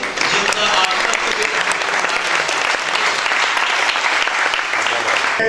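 An audience at a formal Urdu poetry gathering applauds to welcome the chief guest, a dense, sustained round of clapping from a full hall, loud and steady throughout.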